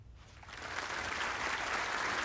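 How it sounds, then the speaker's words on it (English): Audience applause at a virtual Betfred World Championship snooker semi-final swells steadily into a full, even clatter of clapping, with no talk over it. "Crowd appreciating this protracted safety exchange."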